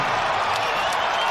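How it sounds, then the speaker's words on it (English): Basketball arena crowd roaring and cheering after a slam dunk during an NBA game, a dense, steady wash of noise with no pauses. "And the crowd goes crazy!"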